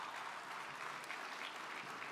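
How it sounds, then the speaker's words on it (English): Gala crowd applauding in a large hall, a dense even wash of many hands clapping, faint and distant, steady throughout with no talking. "We deserve, for ourselves, a round of applause for that happening."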